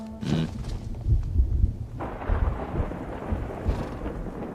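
Deep thunder rolls in a low, heavy rumble, swelling and fading over a few seconds as a steady hiss of rain begins underneath partway through.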